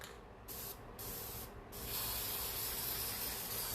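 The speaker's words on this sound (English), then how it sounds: "I'm going to use a little bit of lacquer." An aerosol can of lacquer sprays onto a small painting canvas in three short hissing bursts, then one long steady spray that runs to the end, close and without talk.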